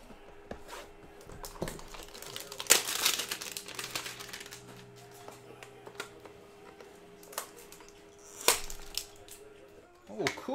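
Foil wrappers of 2016 Optic NFL football card hanger packs crinkle and tear open in bursts, sharp rustles near the mic over a quiet room, with two louder rips.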